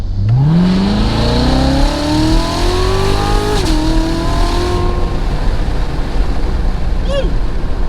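A stock Trans Am revs hard and accelerates quickly, its engine pitch climbing steadily as it pulls away up close, then briefly shifting before easing off into lingering road noise.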